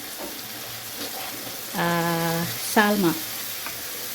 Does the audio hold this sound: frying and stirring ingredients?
yes